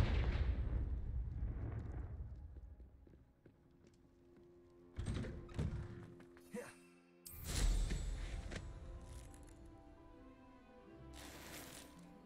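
Confringo blasting spell cast in Hogwarts Legacy, heard as a few sharp explosive bursts with booming tails amid game music, separated by short quieter gaps.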